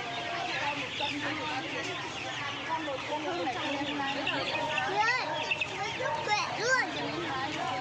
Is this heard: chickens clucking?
yes